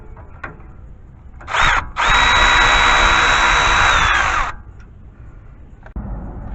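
A power tool whirs loudly on a 10 millimeter bolt during front wheel bearing work on a 2001-2006 Toyota Sequoia or Tundra 2WD, a short burst followed by a sustained run of about two and a half seconds, close up.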